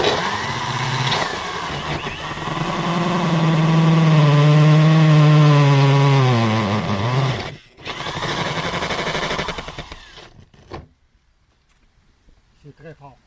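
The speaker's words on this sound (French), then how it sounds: "faire mon trou de 4 pouces et demi à l'intérieur et à l'extérieur" An electric drill bores a 4.5-inch hole through a garage wall, a steady, loud motor whine that runs about seven seconds, cuts out briefly, resumes, then winds down into quiet.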